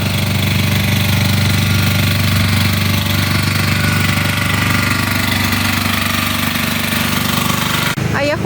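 Power generators run along a city street, a steady loud droning hum with a rattling engine chatter that continues without a break, ending with a faint knock near the close.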